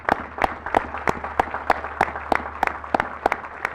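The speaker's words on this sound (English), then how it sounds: "a round of applause." Cadets at an Army regiment advanced camp graduation ceremony applaud, a steady crowd clapping with a few sharp, regular louder claps standing out near the front, no speech over it.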